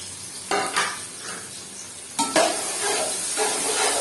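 Onion going into a little oil in a pan for bhindi salan, giving a soft sizzle with a couple of stirring scrapes and clatters near the start and middle, close and moderate, without talk.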